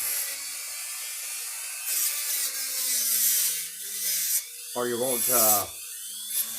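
Dremel rotary tool grinding and carving petrified wood or stone, a steady high buzzing whine that runs throughout and shifts in pitch as the bit bites, with a brief voice breaking in near the end.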